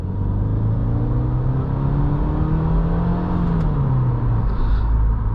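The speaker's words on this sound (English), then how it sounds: "you kind of like put on the gas, it's going to shift almost like a real gearbox" A 2023 Subaru WRX GT with a CVT accelerates steadily, its engine note climbing and then dropping as it steps through simulated gear shifts, a continuous close cabin drone with no talking.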